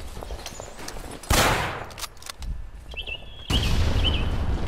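Sniper and other gunfire in the World War II shooter game Day of Defeat, with bursts and cracks of shots over a steady battlefield din, growing louder in the second half.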